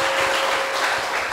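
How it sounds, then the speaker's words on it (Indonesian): Studio audience of a TV talk show in Tanjung Pinang applauds briefly, a dense, steady wash of clapping that is loud and close throughout with no talk over it. "Tepuk tangan dulu dong."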